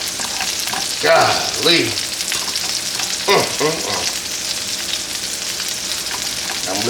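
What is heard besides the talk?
onions frying in a pan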